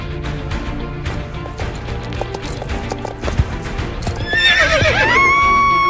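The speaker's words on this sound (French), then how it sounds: "Ce cheval est perdu, Alicia" A horse whinnies loudly near the end, its high wavering call rising over a busy, noisy background with clattering movement throughout; the horse is in distress.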